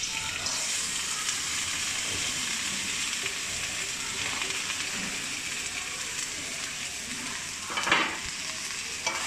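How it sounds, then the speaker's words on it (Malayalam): Okra (bhindi) frying in oil in a pan for aloo bhindi masala, a steady close hiss of sizzling with light stirring scrapes and a louder splash of crackle near the end, no voices. "കുറച്ചും കൂടെ എണ്ണ ഒഴിച്ചിട്ട് ഞാൻ എന്താ ഈ വെണ്ടക്കായ വറക്കാൻ പോവാണ്"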